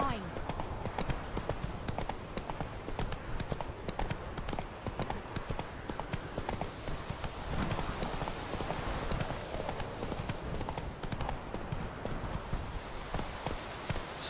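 Roach the horse trotting in The Witcher 3, steady rhythmic hoof clip-clops on the ground running all the way through, with a voice speaking over the hoofbeats.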